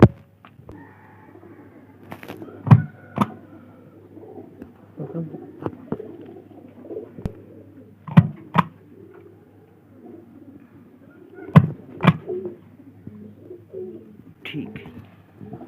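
Pigeons cooing among a flock kept for a pigeon club, soft intermittent coos broken by a few sharp clicks and flutters, with quiet voices in the background.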